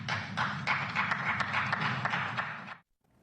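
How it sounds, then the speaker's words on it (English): A few people clapping in a mostly quiet political rally audience, a thin, sparse patter of claps lasting under three seconds before cutting off abruptly. "There are two people clapping in that entire audience"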